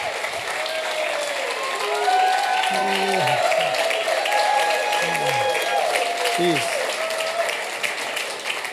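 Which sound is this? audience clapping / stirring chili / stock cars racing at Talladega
audience clapping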